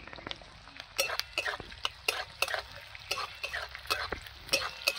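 Garlic, onion and capsicum frying in a pan for chilli chicken, stirred with a utensil: soft sizzling underneath, with sharp scraping and clinking strokes at an irregular pace, plus a brief cough.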